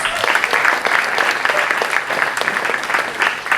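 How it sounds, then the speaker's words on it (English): An audience at a film festival conversation event in Melbourne gives loud, sustained applause, with dense clapping throughout and no clear talking. "A round of applause, please."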